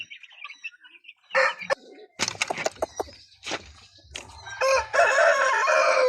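Chickens cluck and squawk in short bursts close by, with a rooster-like call and some wing flapping amid quiet gaps.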